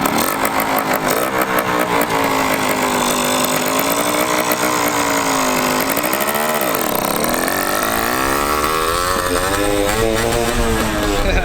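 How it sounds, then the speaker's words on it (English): A small motorcycle engine revs and idles nearby at a swap meet, a loud, buzzy two-stroke-like drone with rising and falling pitch sweeps, steady throughout with no talk. "Baby's first motorcycle."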